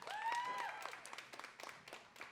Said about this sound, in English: Please keep those hands clapping for our next Outspoken Saturday poet, Red